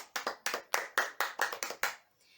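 A short burst of clapping, roughly a dozen sharp claps at an uneven pace from a small group, close by, ending quickly.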